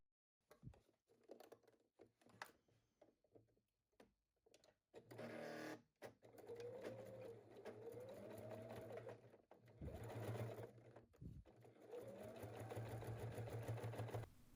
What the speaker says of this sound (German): Die beiden Teile aufeinander nähen.